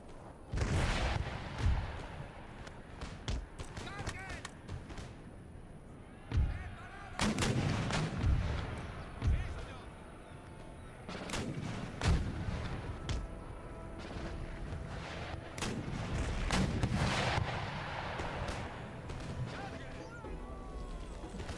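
Artillery fire in the video game Empire: Total War, with repeated booming cannon blasts and volleys, some near and loud, others distant, during a battle near Moscow, under someone talking.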